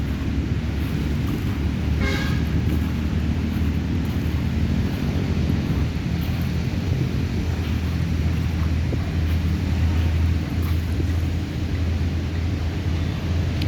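Waves wash and break along the Manila Bay shoreline in a steady, continuous low roar, with wind buffeting the microphone throughout and no voices.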